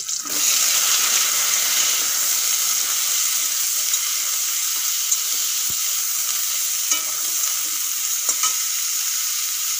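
Flat beans hit a pan of oil with garlic and green chillies and fry in a steady, bright sizzle, close and constant, with an occasional scrape or tap of the spatula and no speech.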